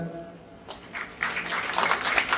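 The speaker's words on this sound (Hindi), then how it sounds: "बहुत सुंदर, तालियां।" Applause rises from an audience at a family devotional program in Ranchi, starting faintly and swelling into steady, dense clapping that fills the room for a couple of seconds.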